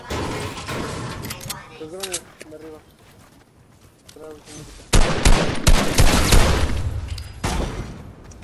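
A voice talks briefly, then loud bursts of rapid Fortnite gunfire erupt and continue in dense volleys to the end.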